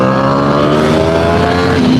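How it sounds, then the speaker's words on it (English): A motorcycle at high speed with the throttle held open, a loud, steady, close engine whine climbing slightly in pitch, with no voice heard. "every time you see me rip the throttle,"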